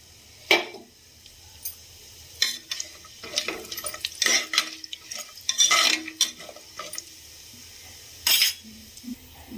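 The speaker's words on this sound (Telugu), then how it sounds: "ఇలా స్పైసెస్ కొంచెం ఫ్రై అయిన తర్వాత" Whole spices, pepper and cumin frying in a pressure cooker pot, heard as scattered close clinks and scrapes of a stirring spoon over a faint background, with no talking.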